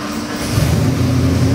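A 427 cubic inch Windsor-based stroker crate engine, 351W block with multi-port fuel injection and coil-on-plug ignition, idles with a deep, steady rumble that builds slightly as the revs rise, loud and close with no voices.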